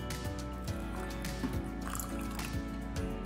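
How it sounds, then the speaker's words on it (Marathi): Water trickles and drips into dry-ground masala over a low steady hum, the faint liquid pouring continuing throughout. "आता यामध्ये आपल्याला पाणी टाकायचं"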